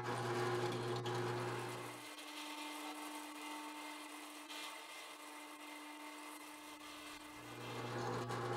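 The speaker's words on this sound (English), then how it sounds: "I'm going to go ahead and drill some shank holes for some screws." A steady drill hum runs for several seconds while boring screw shank holes in wood, its pitch dropping under load, then rising again as it frees.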